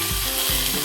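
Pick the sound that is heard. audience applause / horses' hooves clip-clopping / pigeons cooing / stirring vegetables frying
stirring vegetables frying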